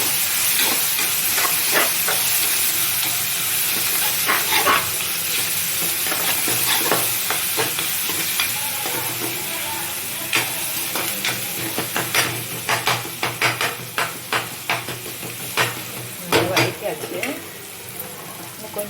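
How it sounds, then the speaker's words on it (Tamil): Fish curry masala sautéed on a low flame in a pan, a constant hissing sizzle under many sharp ladle scrapes and taps that grow quicker and more rhythmic toward the end, close and with no talking. "இது போல் சிம்மில் வச்சுட்டு வதக்கலாம்."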